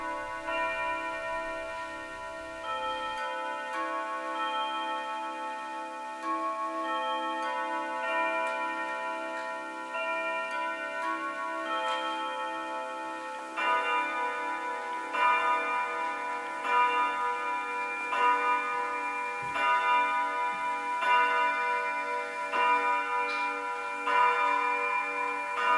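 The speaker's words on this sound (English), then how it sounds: "here's what the chime sounds like" A clock's chime mechanism, its hammers striking tuned rods, rings out a long sequence of sustained, overlapping metallic tones, with a steady tick audible beneath, alone and close.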